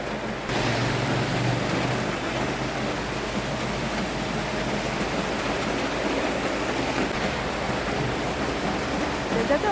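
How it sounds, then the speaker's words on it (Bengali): Heavy monsoon rain pours down steadily outdoors as a dense, constant hiss that stays loud and even throughout. "দেখেছো কত বৃষ্টি পড়ছে?"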